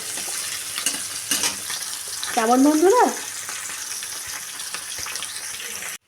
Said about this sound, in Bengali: বন্ধুরা আমার যে মাছগুলো সব ভাজা হয়ে গেছে